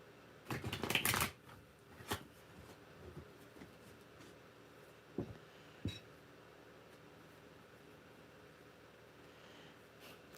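Tarot cards riffle in a short, loud shuffle near the start, followed by a few isolated soft snaps and taps as the deck is cut, close by in a quiet room without talk.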